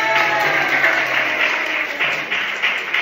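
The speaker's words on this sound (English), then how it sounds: "Clap your hands to Weir." A secondary school class in Thailand applauding a student after a score is read out, continuous brisk hand clapping from many pupils, close and fairly loud, rising and dipping slightly.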